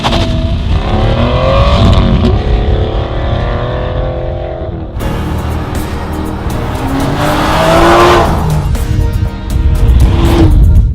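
Aston Martin V12 Vantage S Roadster with its 6-litre AM28 V12 roaring loudly and continuously up close, its pitch climbing and falling through revs and gear changes, with no talk over it.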